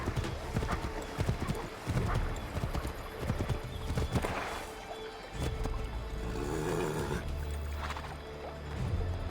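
Horse hooves galloping in the video game Assassin's Creed 3, a steady rapid clip-clop with an occasional whinny, running throughout under faint ambient noise.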